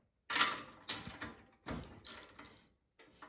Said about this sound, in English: So let's pull the spark plug out.